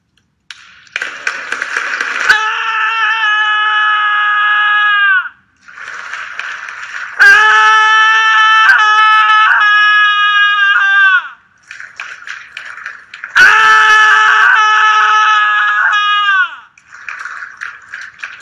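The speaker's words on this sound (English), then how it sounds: "join 1 minute of global scream every day at 6 p.m." People let out long, sustained screams in a daily one-minute protest for Belarus, several voices overlapping in loud wailing bursts separated by brief pauses.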